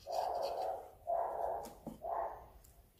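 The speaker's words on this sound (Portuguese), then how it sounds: "olha os cachorros" Dogs bark in three bursts close by in a kitchen where a gluten-free, dairy-free chocolate banana oat cake has just been baked and sliced, each bark fairly loud, with short pauses and a brief click between them.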